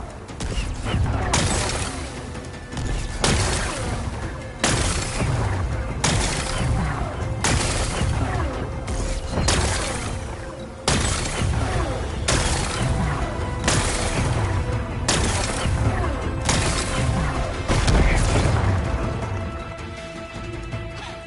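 Explosions blasting away rocks in a video game, a run of repeated booming blasts at a roughly even pace, each a sharp loud burst with rumbling between them and game sounds underneath.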